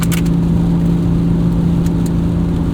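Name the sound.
1998 BMW E36 M3 sedan engine accelerating at full throttle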